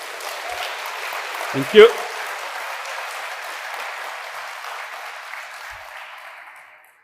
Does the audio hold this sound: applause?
yes